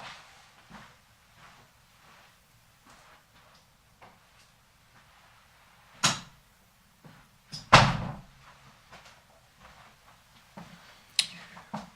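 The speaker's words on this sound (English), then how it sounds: "And I'm going to go close my door as well." A room door is shut with one sharp slam and a few lighter knocks and clicks around it, set against near silence in an indoor space.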